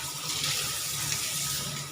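Running tap water splashes steadily into a sink as raw meat is rinsed, a close, continuous wash with no talk.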